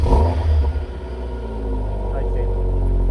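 An MG TF car with an oxygen sensor fault: the engine turns over and catches, then rumbles and revs close by, a loud low drone that settles into a steady hum, with someone talking.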